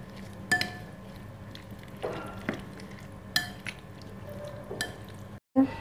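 Mustard oil, salt and pickle masala are stirred together for a ridge gourd chokha, with a spoon giving occasional soft clinks and scrapes against the dish, quiet and close with pauses between strokes.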